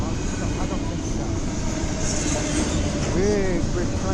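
Big white CSX freight train rolling past in Fostoria, Ohio, a dense continuous rumble with wheel noise and a brief squeal near the end, loud and close.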